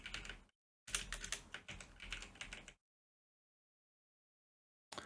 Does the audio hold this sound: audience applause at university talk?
no